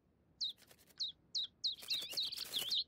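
Cartoon birds chirping at a birdhouse, a series of short bright tweets repeating at a steady pace, then overlapping into a busier flurry of chirps near the end.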